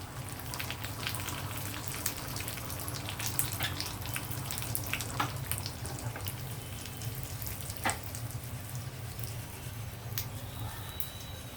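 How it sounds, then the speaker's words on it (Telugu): Cumin, mustard seeds and dried red chilies sizzle together in hot oil with garlic, giving a dense, continuous crackling hiss close by with scattered small pops. "నేను ఇవన్నీ ఒకేసారి వేసేస్తున్నాను జీలకర్ర ఆవాలు ఎండుమిర్చి"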